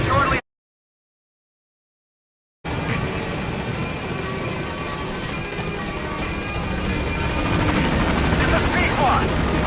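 The Pequod helicopter from Metal Gear Solid V approaches with a loud, steady rotor and engine roar that builds after a short silent gap, sustained and close throughout.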